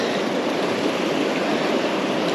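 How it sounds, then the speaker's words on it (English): The River Ayr running high, a steady loud broadband rush of fast-flowing water close by, continuous with no pauses and no talk. "Hopefully you can hear me on the microphone with all the noise in the river."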